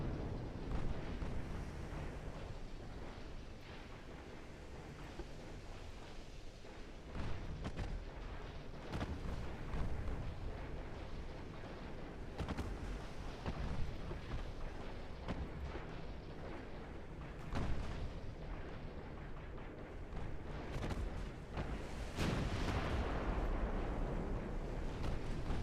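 Naval guns fire in Ultimate Admiral Dreadnoughts, a sustained rumble of booming salvos and distant explosions rolling over one another with no pause, continuous and moderately loud.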